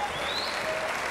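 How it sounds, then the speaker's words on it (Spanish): A boxing crowd applauds a fighter at the end of a bout, a short burst of dense, steady clapping from the arena audience. "de que festeja y que su público lo aplaude"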